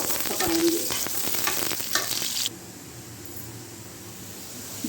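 Onions fry in oil with curry leaves, cloves, black pepper and cumin, loud and close with stirring, before the hiss suddenly drops to a softer, steady simmering sizzle.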